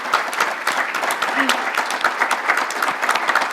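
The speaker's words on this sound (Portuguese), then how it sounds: "acho que só posso pedir uma salva de palmas a todos eles" Audience applause at a book launch event, steady dense clapping from a crowd filling the room throughout, with a brief voice rising faintly beneath it.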